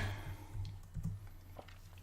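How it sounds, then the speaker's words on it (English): A few soft, quick keystrokes tap on a computer keyboard over a low background hum, close and faint. "it's my keyboard"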